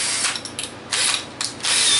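A power drill's chuck ratchets while bits are swapped during a Harley Davidson saddlebag lid installation, with several short bursts of rapid clicking close by, separated by brief pauses.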